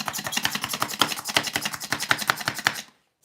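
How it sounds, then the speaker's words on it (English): A knife chops a purple onion on a cutting board in a rapid, steady run of sharp close taps for almost three seconds, then stops abruptly, with no voices. "We're gonna go in and chop this purple onion in 3, 2, and 1."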